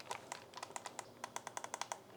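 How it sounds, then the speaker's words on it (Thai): Shortcut keys on an RK M87 keyboard are pressed in a quick series of about twenty soft, close clicks, some irregular and then more evenly spaced. "5 ปุ่มตรงนี้นะ ที่จะเป็นปุ่มลัดปิดเครื่อง เปิดปิดเพลงเลื่อนเพลง ไปหน้ากับหลังหรือหยุดเสียงจะเป็นแบบนี้"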